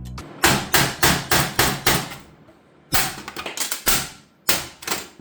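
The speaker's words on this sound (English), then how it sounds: "grab an ice pick and a hammer" An ice pick is hammered into a PC case: sharp metallic strikes land in quick bursts, about five evenly spaced blows, then a pause, then a faster uneven run of hits, close and loud.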